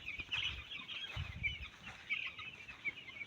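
Chickens and a rooster cluck steadily at moderate volume in a farmyard, a busy overlapping chorus of calls throughout with occasional wing flutters.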